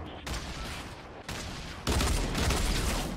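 Gunfire in a Fortnite match: loud, sustained bursts of shooting in three blocks separated by brief pauses, the last burst heaviest, with game noise throughout and no talking.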